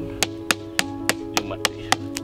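Chisel struck with a hammer on a wooden tree trunk while clearing it out for sculpture, eight sharp evenly spaced taps over a steady background hum.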